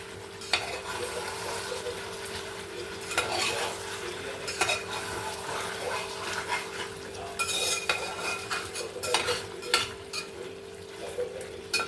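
Chicken curry being stirred in a pan, with repeated scraping and clinks of a utensil against the metal over a steady low sizzle, close and fairly quiet, no talking.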